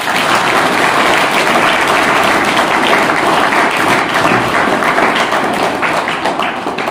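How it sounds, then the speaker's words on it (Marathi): At a tree-planting event, an audience applauds two chief guests, one a retired chief forest conservator. The clapping is loud and dense, sustained for several seconds and tapering slightly near the end. "या दोघांसाठी जोरदार टाळ्या वाजवा"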